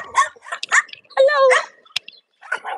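Several dogs bark and yip in short bursts near the listener, with one drawn-out whining howl in the middle. Gaps fall between the bursts.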